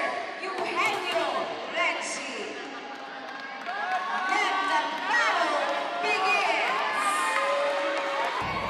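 A gymnasium crowd at a boys' volleyball match cheers and shouts loudly and continuously, with excited chatter, voices rising in waves and occasional ball thuds mixed in.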